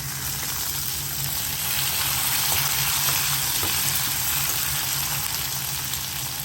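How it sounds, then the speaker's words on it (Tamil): Onions and garlic sizzle and fry steadily in a hot pan while tomato mint chutney is made, a continuous close, fairly loud crackling hiss with no talk. "பூண்டு சேர்த்த பின்னாடி நம்ம வச்சுருக்கிற வெங்காயத்தை அப்படியே சேர்த்துக்கலாம்."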